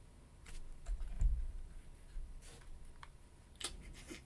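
Computer keyboard typing during a typing speed test: scattered, uneven key clicks and soft thumps, fairly close and quiet, with no voices.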